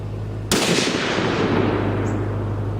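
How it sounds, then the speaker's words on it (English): A single sharp rifle shot cracks loud and close on a range while sighting in at 50 yards, followed by a long fading echo that rolls out over the next two seconds. "We'll send one more shot at 50 with this gun"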